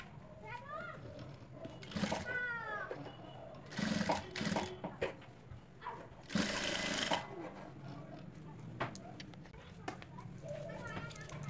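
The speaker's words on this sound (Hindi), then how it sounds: "फिर उसके बाद में हम इसको यहाँ पे सिल देंगे ऐसे।" A sewing machine stitches elastic onto cloth in several loud, rapid bursts of whirring, separated by pauses, with someone talking in between and under the stitching.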